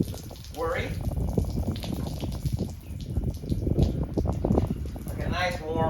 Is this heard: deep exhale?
no